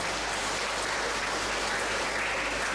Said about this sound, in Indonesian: Pokoknya tepuk tangan untuk mereka semua.